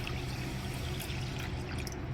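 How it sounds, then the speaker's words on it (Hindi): Water poured onto 2 kg of sugar in a pan for rasgulla syrup, a steady close pour with a soft trickling wash running throughout, no voices. "चीनी 2 किलो, इसमें पानी डालते हैं"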